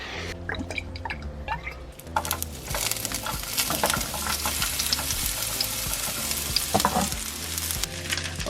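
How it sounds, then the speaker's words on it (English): Onions frying in a pan, a steady crackling sizzle with scattered sharp pops, fairly close and loud throughout, with occasional stirring. "You can hear the onions crackling away as they're frying."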